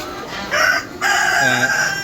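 A rooster crows loudly and close among chickens and ducks kept in a shed in the morning. Two drawn-out crows with clucking fowl around them, and no talk.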